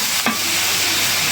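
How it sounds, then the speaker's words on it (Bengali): Turmeric, chili, coriander and cumin powders fry in a pan, a brief, even hiss of sizzling oil with a soft stir partway through. "মশলাটা একদম সুন্দর করে ভাজা ভাজা করে নিলাম"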